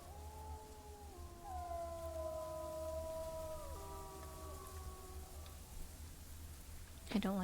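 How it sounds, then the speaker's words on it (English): Several wolves howl together near a den in the WolfQuest video game, long overlapping tones sliding and holding at moderate distance, fading out before a brief sharp sound at the end, with no talking. "I don't like hearing other wolves howling that close to my den"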